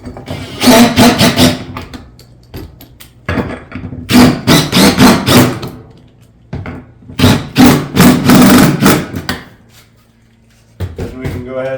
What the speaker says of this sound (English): take our lag bolts and put them in those